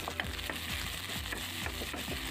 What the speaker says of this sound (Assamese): যেতিয়ালৈকে ৰঙচুৱা নহয় তেতিয়ালৈকে ভাজি থাকিম